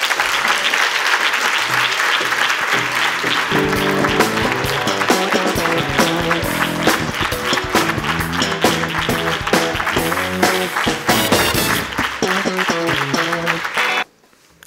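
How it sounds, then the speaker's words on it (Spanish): Dense, sustained applause from an award ceremony audience in Barbastro, loud and continuous throughout with rhythmic clapping and some shouts, then cutting off abruptly near the end. "Un aplauso como se merece"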